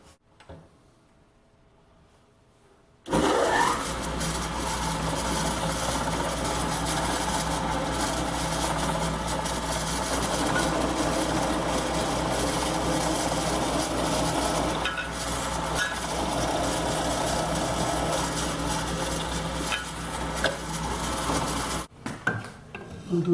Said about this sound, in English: Now we need to drill the horizontal pieces